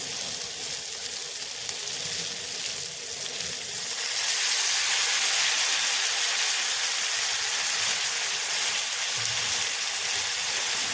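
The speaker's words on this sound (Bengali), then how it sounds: "দিয়ে দিচ্ছি একটু সয়া সস" Soy sauce hitting a hot pan of masala pasta gives a steady, loud hiss and sizzle that swells after a few seconds and holds to the end, with no talking.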